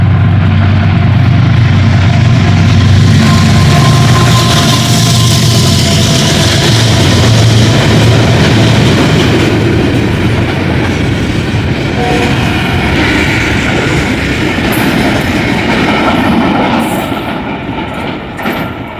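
Mehran Express train rolling loudly past Jhampir station in Pakistan, a sustained heavy rumble with rhythmic wheel clatter and faint squeal that holds steady for most of the passage before easing slightly at the end.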